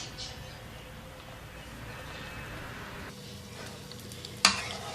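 Egg-dipped dal kabab frying in a pan, a soft continuous sizzle with faint stirring, quiet and close, ending in a sharp clack of utensil on pan.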